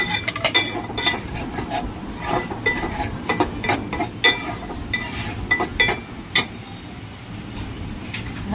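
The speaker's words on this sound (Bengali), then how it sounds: "একসাথে মিক্স করে ভালো করে নাড়িয়ে মশলা পরিমাণ মতন দিয়ে নাড়াচাড়া করে সুন্দর করে মশলাটাকে কষিয়ে ভাজা ভাজা করব" Okra and shrimp fried with spices in a pan, stirred with clinking metal utensils scraping the pan in a steady, irregular rhythm of close taps and scrapes over a low sizzle, with no one talking.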